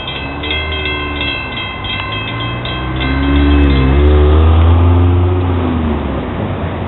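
A Florida East Coast Railway train rolls by close and loud, its steady rumble swelling midway as horn-like tones sound, with no talking.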